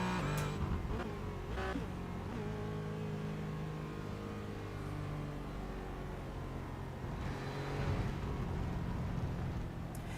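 A car lapping the Silverstone Grand Prix circuit on cold tyres, its engine a loud, steady drone heard from close by, with pitch shifts as it brakes into corners and accelerates out, and no talking.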